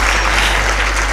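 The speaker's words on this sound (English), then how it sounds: "A big round of applause for her once more" Loud, dense round of applause from an audience at a communication studies and public relations institute event in Southern Africa, steady and continuous throughout.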